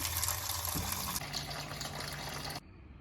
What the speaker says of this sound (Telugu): ఇప్పుడు మినరల్ వాటర్తో ఈ టొమాటోలని బాగా కడిగేద్దాం